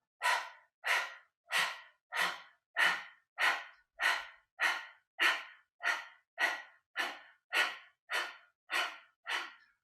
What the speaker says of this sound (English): let's start warming up for the breath of fire, panting like a dog